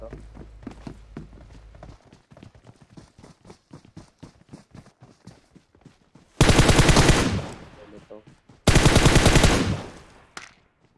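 Bursts of automatic gunfire in the mobile battle royale game BGMI, two long loud volleys following a stretch of rapid footsteps, with players talking.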